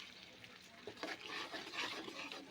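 Spice paste with a little turmeric being stirred and sautéed in a pan for potato curry, a quiet crackling sizzle with scraping stir strokes that grow busier toward the end, close but low in level.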